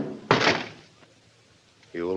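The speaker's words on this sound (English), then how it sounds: "Baldy kicked the door shut" A door is kicked shut in a tense old-time radio drama scene, giving one loud, close slam with a brief rattle before a quiet pause, then a voice begins speaking.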